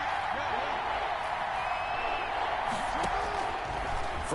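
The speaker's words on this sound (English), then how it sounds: "The crowd getting into it as we come up on a big 3rd down." Stadium crowd noise from a football video game on PS4, a steady, loud roar of cheering throughout with no speech over it.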